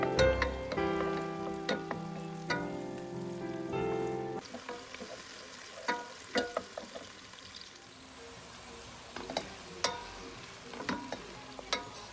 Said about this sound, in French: Je vais mettre un peu d'huile pour faire les légumes